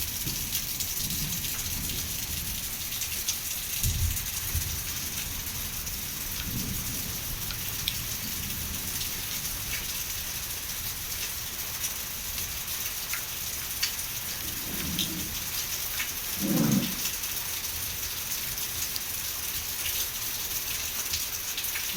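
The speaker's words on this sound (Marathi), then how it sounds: "आता आणखीन पावसाचा जोर वाढलेला आहे बघा" Constant downpour in Beed district, India, roars without pause, broken by a few deep thunder rumbles, one louder roll near the end.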